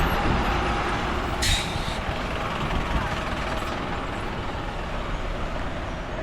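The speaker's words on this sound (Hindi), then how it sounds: "और यहाँ से आ गया ट्रक" A truck approaches on a mountain road with a steady, loud rumble and engine roar, plus a short bright hiss burst near the start.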